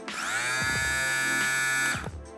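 A Kemei T299 hair clipper's brushless motor hums with a high, bright whine, running briefly and close, with a couple of small clicks as it switches.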